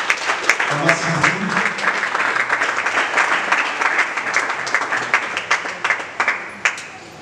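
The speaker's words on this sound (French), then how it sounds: "Nous l'encourageons par nos acclamations." A church congregation applauds with a brisk, uneven patter of clapping that thins toward separate claps near the end, with voices talking underneath.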